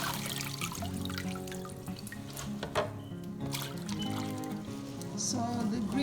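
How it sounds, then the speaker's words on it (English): Running water trickles and splashes as tender green vegetables are washed for a tomato stew, soft intermittent dripping and pouring close by under background music. "Make sure you wash your green before cutting it."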